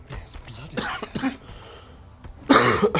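Repeated throaty coughing from a streamer playing Baldur's Gate 3, a few harsh bursts with muffled speech-like sounds between, ending in a louder cough near the end, close to the mic.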